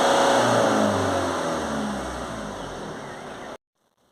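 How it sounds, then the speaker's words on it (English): A Peugeot Boxer 2.0 HDi van engine, fitted with a blocked diesel particulate filter, revs hard at full throttle close by, its steady drone slowly easing before cutting off abruptly into near silence. "Now we can get full revs."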